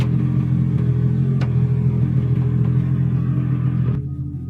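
A four-cylinder motorcycle engine runs at high revs on a test bench, a loud steady droning roar with a sharp blip partway through, then the revs drop and the sound eases off near the end.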